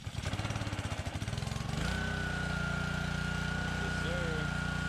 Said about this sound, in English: Honda, first start.